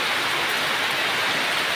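Heavy rain pours down on a remote village, a loud, dense, unbroken roar of drops hitting the ground and roofs close by, with no speech.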